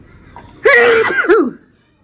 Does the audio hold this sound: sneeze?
yes